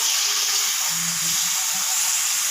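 Ash gourd pieces fry in hot mustard oil with dried chilli and black cumin in a wok, giving a steady, loud sizzle and hiss with faint stirring clinks underneath.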